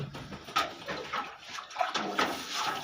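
Milk splashes from a mug into a bucket of milk at close range, a short burst of liquid gurgling and sloshing.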